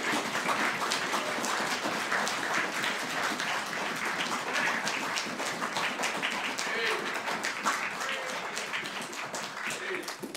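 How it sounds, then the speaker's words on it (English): A church youth-conference audience claps for a preacher, giving a sustained, dense round of applause that carries evenly from start to finish with some voices mixed in. "Standing ovation, nothing, a clap."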